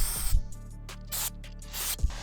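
Throttle body cleaner sprayed from an aerosol can onto a Range Rover Sport throttle body, heard as several short hissing bursts of varying length, close and fairly loud, separated by brief pauses.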